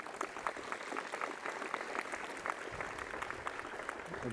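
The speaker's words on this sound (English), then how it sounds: "let's give another round of applause to David" Sustained crowd applause at a college campus ribbon cutting ceremony for Kirksey Old Main, a steady, even patter of many hands heard from a distance with no talking.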